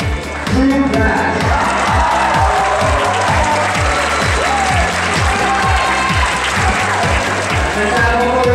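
At the 2013 Rubik's Cube World Championship finals, an audience claps steadily for the pyraminx champion while a loud, pulsing music beat plays throughout.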